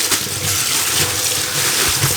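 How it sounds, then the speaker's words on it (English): Water splashes and runs steadily while a plastic bag is rinsed out at a sink, a close, continuous gushing wash with no pauses. "I'm trying to rinse out this bag."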